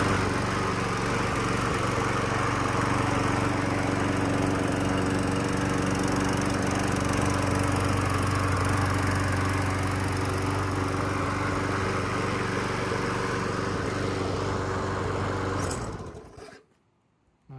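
Troy-Bilt lawn mower engine running steadily at a loud, constant roar close by, then cutting off and winding down near the end.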